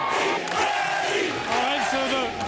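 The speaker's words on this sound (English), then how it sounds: "The fans are finding us, still cheering." Dodgers fans cheer and shout in a dense, loud crowd roar after the World Series win, with whoops and yells rising out of the steady mass of voices at an outdoor late-night celebration.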